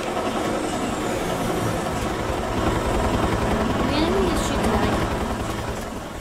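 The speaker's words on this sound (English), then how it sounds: "Take out the helicopter." Helicopter rotor in Metal Gear Solid 3 drones steadily and loudly throughout, a dense low mechanical thrum with faint talk mixed in.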